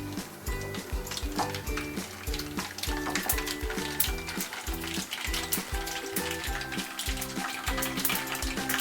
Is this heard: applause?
no